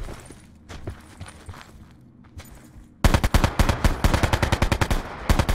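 Gunfire in Call of Duty Black Ops 4 Blackout: a few scattered shots and footsteps, then a loud, rapid automatic burst of dense repeated shots for the final few seconds.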